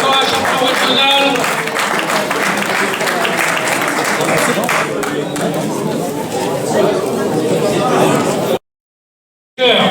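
Audience applauding a regional champion at a UFOLEP Picardy championship in Pasly, Aisne, with steady, dense clapping and crowd chatter filling the hall for over eight seconds before cutting to silence.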